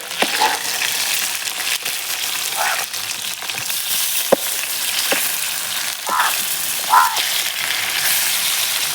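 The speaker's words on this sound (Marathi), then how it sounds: "आता ही बाजू आपण तळून घेऊया।" Fish fry in a pan over a village wood-fired stove, a steady loud sizzle with occasional louder bursts and a few sharp knocks, no talking.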